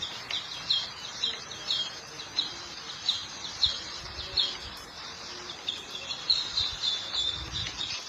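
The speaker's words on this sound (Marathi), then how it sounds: "पक्ष्यांचा किलबिलाट" Birds chirping around a stone temple, repeated bright short calls in a steady pulsing rhythm over a quiet outdoor background, moderately near.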